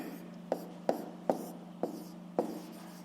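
Pen strokes tap and scratch on paper while a maths exercise is written out, five or six distinct short strokes in a steady rhythm, close and fairly clear, with faint speech-like murmur in the background.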